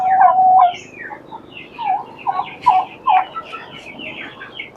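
Native hens in a backyard chicken coop give a string of close, loud clucks and throaty calls, several in quick succession with short gaps, and no one talks over them.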